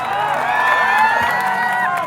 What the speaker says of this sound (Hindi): एक बार कल्लू भैया खाली जोरदार ताली आप सब बजा दें।